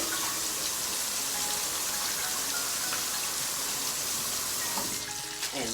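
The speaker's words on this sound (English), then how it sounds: "I drain the water off of my fries." Water draining off cut potato fries in a kitchen, a steady close rushing pour like a running tap that continues throughout, loud and alone.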